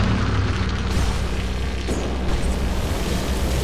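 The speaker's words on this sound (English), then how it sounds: "Radiant's top tower has fallen." A Dota 2 tower collapsing in an explosion, a loud, sustained rumbling boom that fills the whole stretch with dense low-end roar, steady and close, with no talk over it.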